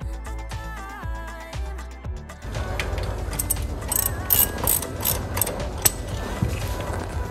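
A hand ratchet bolts racing seat brackets to the seat rails, giving a steady, close clicking ratchet rhythm that begins with a few slow turns and then runs fast and continuous. Other mechanical sounds are mixed in.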